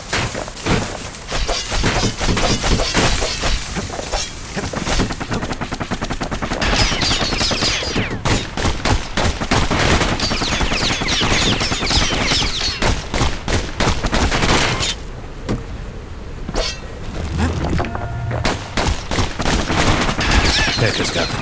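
Enemy gunfire in the Bastion game, a loud, dense fusillade of rapid shots and impacts. It goes on almost without a break, mixed with thuds and shattering hits and other game sounds.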